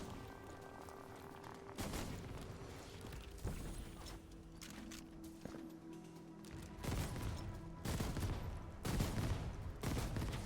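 Automated turrets in the game Outpost Infinity Siege firing steadily, a dense stream of repeated shots with heavier booming bursts over mechanical whirring, continuous and fairly close.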